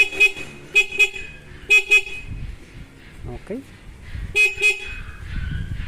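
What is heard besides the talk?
car horn honking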